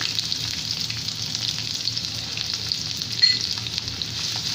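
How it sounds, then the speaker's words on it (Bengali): Chopped onion sizzling in hot oil in a pan that already holds fried cardamom, cinnamon and bay leaf, a steady close frying hiss with a brief clatter near the end. "পেঁয়াজ কুচি দিয়ে দিচ্ছি।"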